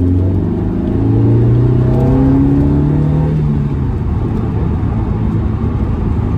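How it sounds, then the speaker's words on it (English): An MG F sports car accelerating hard through its gears, engine note rising steadily then dropping at a gear change and climbing again, loud and close from inside the car, with a constant road and wind roar underneath. "let's go left, accelerating a bit hard."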